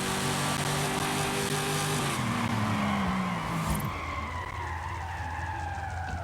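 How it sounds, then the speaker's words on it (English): A Dodge Challenger Demon in drag tune locks its tires and skids with a loud, sustained screech under heavy engine noise, the squeal shifting pitch before the car fades into a quieter roll. "Locking those tires up."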